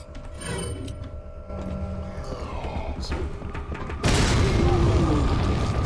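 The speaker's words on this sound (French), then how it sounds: "Allez, on a une petite grenade." A grenade goes off in the video game Resident Evil 4, with a sudden loud blast and rumbling noise that cuts in and sustains after quieter game sounds and mechanical clicks.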